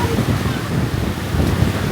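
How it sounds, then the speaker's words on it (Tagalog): Strong ocean waves crash and roar on a Boracay beach in windy monsoon season at dusk, a continuous loud surf wash with wind buffeting the microphone. "The wave is strong."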